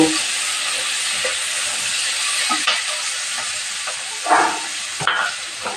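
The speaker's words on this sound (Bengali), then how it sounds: "অনেকগুলো কাঁচা লঙ্কা একদম ঝাল ঝাল করে এটাকে ভেজে নেব" Green chillies fry in a pan with a loud, constant hissing sizzle, with a few clattering stirs and scrapes toward the end and no talking.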